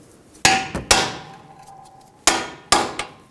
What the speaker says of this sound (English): I'm going to tap them into the strut